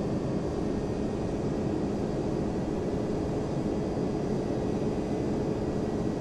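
Airplanes at Dublin airport in the flight simulator FSX give off a steady, unbroken jet-engine drone and broadband roar at constant loudness, with no voices over it.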